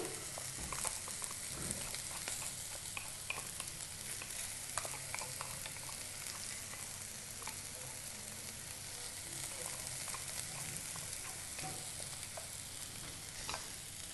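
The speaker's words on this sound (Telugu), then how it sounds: "కర్రీలో బాగా కలిసేలాగా కలుపుకోవాలి" Chili powder being stirred into an ivy gourd curry in a pan, a steady soft sizzle with scraping spoon strokes running evenly throughout, close and moderately quiet, with no voices.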